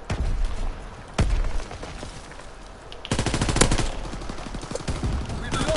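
Rapid gunfire in the video game Call of Duty WWII, bursts of loud shots including a short crack and a dense, sustained volley, with no talking over it.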